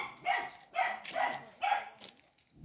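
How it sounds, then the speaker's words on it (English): A dog barks in a rural Jamaican yard near a river, giving four evenly spaced moderately close barks and a short fifth one, with no talking over them. "Dog barking."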